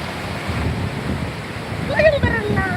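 Large ocean waves break and wash at the shore in a steady rushing roar with wind buffeting the microphone, and a voice briefly calls out over the surf.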